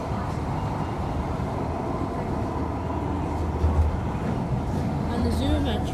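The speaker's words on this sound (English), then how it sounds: "there's the northern train" A Tyne and Wear Metro train rumbles past, a steady low rolling noise throughout with rising clatter toward the end.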